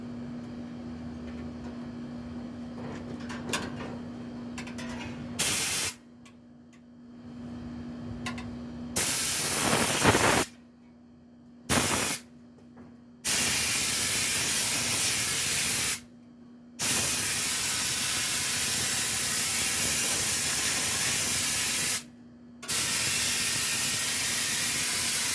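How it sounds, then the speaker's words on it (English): Loud steady hiss of water sprayed onto an AC condenser coil, running in long bursts with short silent breaks between them, close and continuous, with a faint hum beneath. "Actually, I'm gonna spray some of this in here."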